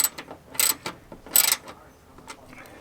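Ratchet wrench tightening the bolts on a car's front bumper, a few short bursts of rapid clicking separated by pauses, close and moderately loud with no talking.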